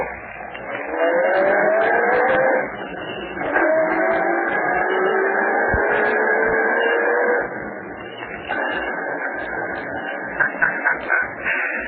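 A car engine revs and pulls away in an old-time radio drama, loud and close, rising through gear changes over several seconds before settling into a steady drone as the vehicle drives off, with no talk over it.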